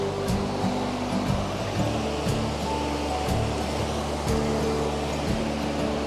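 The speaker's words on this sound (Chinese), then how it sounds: "大家有听到潺潺的水声了吗" A babbling stream at the Sanran tributary of the Oirase gorge in autumn: a continuous, even rush of flowing water nearby, with a low steady hum underneath and no voices.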